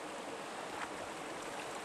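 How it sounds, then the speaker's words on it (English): Water rushes and trickles continuously as a gold pan is rinsed in a stream while mining in Oregon, steady and close with no talking. "we're going to back it out the water and let it rinse off the light stuff"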